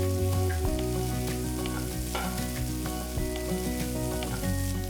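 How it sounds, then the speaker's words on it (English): Finely cut beans fry with urad dal, mustard seeds, curry leaves and asafoetida in a pan, giving a steady close sizzle with scattered crackles and pops throughout. "While the beans are cooking"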